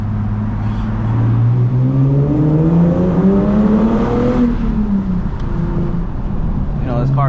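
Infiniti G37S with a six-speed manual pulling hard in second gear through a tunnel, engine note climbing loud and steady with reverberation, then easing off near the end.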